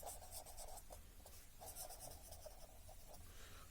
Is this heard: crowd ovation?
no